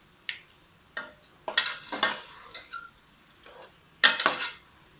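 Beef curry in a pot is mixed with spices using a metal spoon, producing irregular scraping clanks and bursts of stirring over a light sizzle, close and fairly loud.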